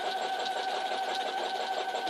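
A sewing machine runs continuously while stitching a newspaper quilt, a steady mechanical whir with a fast rattling pulse, close and moderately loud, with no voices.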